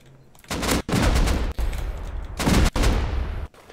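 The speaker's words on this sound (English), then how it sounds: "It's almost as if he's got internal explosions on his own base." Loud, repeated explosions and gunfire-like blasts tear through a base under raid in a video game, coming in several long, dense bursts separated by brief gaps.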